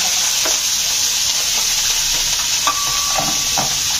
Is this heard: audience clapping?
no